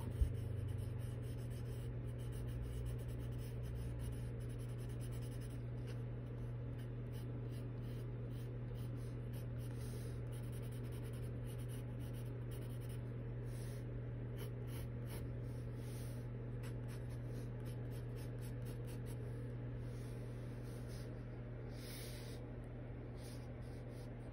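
Pencil shading a drawing of stones, moss and glowing glass on paper, a long run of close, soft rhythmic scratching strokes over a steady low hum.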